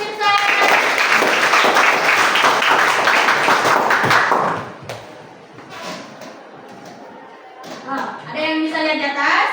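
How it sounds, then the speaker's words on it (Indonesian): Children in a classroom clap together in a loud burst of rapid, scattered handclaps lasting several seconds. The clapping fades, and children's voices and more scattered claps follow. "Kasih aplaus dulu untuk Firsa."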